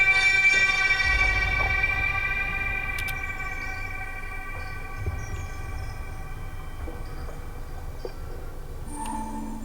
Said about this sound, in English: that's from like a horror sample pack for horror movies and stuff like that